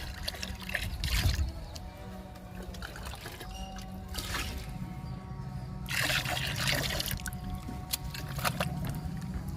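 Water trickles and splashes as it is poured from a mug while mixing a liquid plant tonic, a faint, continuous pouring with soft bursts of splashing throughout.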